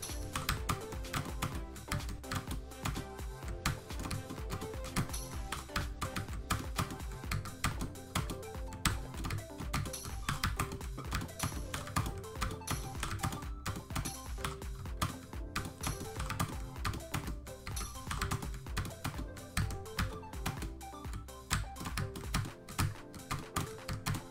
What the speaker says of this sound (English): gotta quit getting distracted and typing in the chat while you're playing